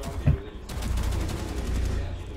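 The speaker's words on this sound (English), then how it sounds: "I don't know how those shots didn't get her." Gunfire in Rainbow Six Siege sounds as a rapid, rattling burst of shots in the middle distance, with a sharp crack near the start.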